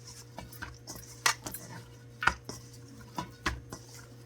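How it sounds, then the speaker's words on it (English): Dry flour rubbed around a bowl to clean it while making yeast roti, scraping and light clinks of the bowl in irregular taps, close and fairly quiet. "You just put some dry flour and you rub it around the bowl like this"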